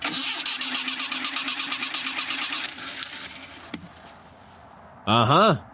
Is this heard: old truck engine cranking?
yes